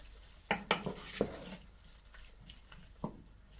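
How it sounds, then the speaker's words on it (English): A spoon scrapes and clinks against a pan while callaloo and saltfish are stirred, giving a few close metallic knocks and soft scraping over a faint sizzle, with no talking. "Give it a stir."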